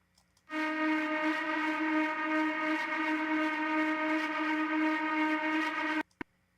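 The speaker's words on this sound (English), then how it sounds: "Because I needed some type of siren to go with this." A steady, sustained siren-like synth tone in a hip hop beat drones loudly for several seconds, then cuts off abruptly, followed by a single short click.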